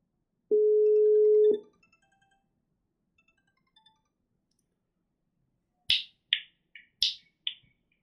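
A phone call through a PSTN gateway gives a single steady tone lasting about a second, then a few faint ticks, followed by a cluster of sharp clicking chirps near the end.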